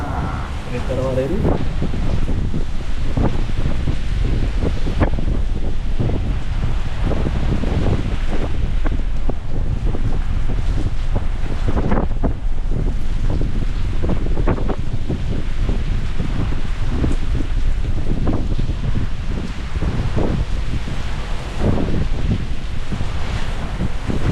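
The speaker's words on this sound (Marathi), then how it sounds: "कंटिन्यू वारं चालू आहे जोरात वाऱ्याचा आवाज पण येत असेल" Strong, steady wind roars across the microphone on a Sahyadri mountain trek at Tail Baila during heavy rain, a continuous gusting rush with some voices faintly underneath.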